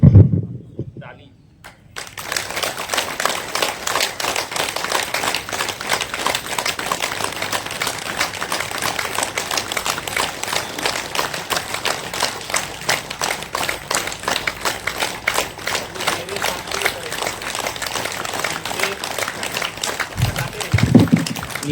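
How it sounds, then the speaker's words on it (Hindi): A group claps hands steadily during a Yoga Day laughter exercise, a long run of brisk, even claps that continues after a brief opening pause, with a voice speaking over it. "ताली बजाएंगे"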